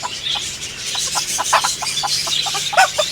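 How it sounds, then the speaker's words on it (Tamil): Several kinds of chickens at a farm in Batticaloa cluck in short repeated bursts, a steady chorus of nearby hens over light background noise, with no talking. "இங்கே எல்லாம் டிஃப்ரெண்ட் டிஃப்ரெண்ட் கோழியெல்லாம்"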